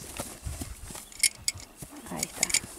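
A piebald work horse walks with a few scattered, uneven hoof clops on the ground, faint and close, mixed with soft handling noises and a couple of sharp metallic jingles.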